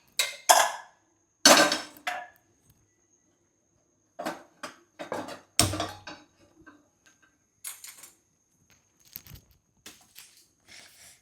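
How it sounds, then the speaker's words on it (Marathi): Metal pressure cooker set down on a gas stove in a home kitchen, a series of sharp clanks, knocks and taps in irregular bursts, close and fairly loud with short quiet gaps between them, no talking. "तर सर्वप्रथम आपण गॅसवर कुकर ठेवून घेऊया."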